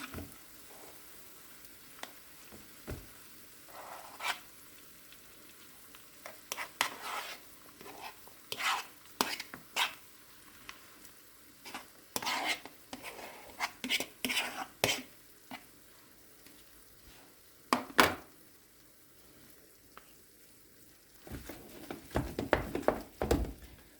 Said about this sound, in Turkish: Şimdi şöyle ezmiş olduğum haşlanmış patateslerimi içine ilave ediyorum.